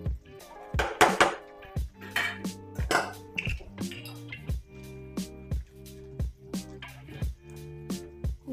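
Rice tossed and stirred with sauces in a metal pan over high flame, a steady run of spatula scrapes and clanks against the pan, close and fairly loud, with no voices.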